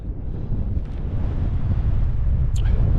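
Strong gusty wind buffeting the microphone on an exposed mountainside in the Howgills, a steady loud roar with no voices.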